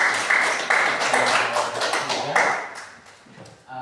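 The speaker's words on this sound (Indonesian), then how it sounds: "Baik, kita berikan aplaus." Students in a maths class applaud a group, a short burst of close hand clapping that starts and stops in waves, fading out toward the end.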